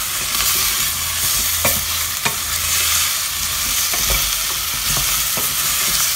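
Parsnip and apple sautéing in a hot pan for soup, a continuous bright sizzle broken by sharp clicks and scrapes as the pieces are stirred, close and loud, with no voices.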